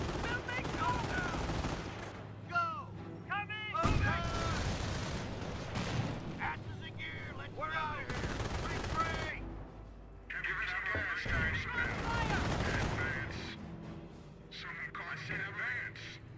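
Gunfire in the World War II strategy game Company of Heroes, Normandy invasion: repeated bursts of machine-gun and rifle fire in a busy battle mix, with voices speaking over it.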